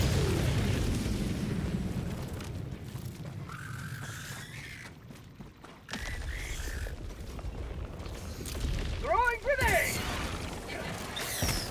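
A grenade detonates in the co-op shooter Helldivers 2: a broadband blast rumbles amid gameplay din and mechanical clatter, followed by a brief hush and then a renewed burst of battle noise.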